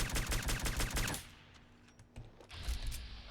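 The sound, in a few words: Crusader Pistol gunfire in video game Fallout 4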